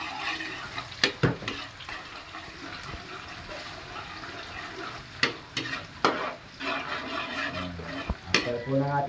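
Onion goes into a hot pan with browning garlic, raising a loud, close sizzle that swells and fades with sharp spatula clacks and scraping strokes as it is stirred.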